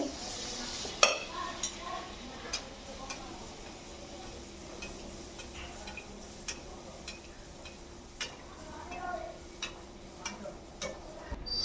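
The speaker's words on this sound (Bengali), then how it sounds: "আমি আস্তে আস্তে এখন সবগুলো ভেজে নিব" Steady low sizzle of palm fruit fritters frying in oil, with occasional sharp ticks and utensil clinks scattered throughout; no talking.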